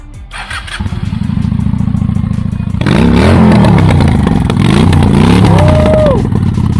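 A Honda Shadow 750 Spirit motorcycle cranks, catches and settles into a loud, close, lumpy idle, then is revved hard in several rising bursts, with no talk over it.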